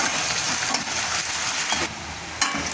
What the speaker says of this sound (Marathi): आपल्याला कांदा हलका गुलाबी कलर येईपर्यंत परतायचा आहे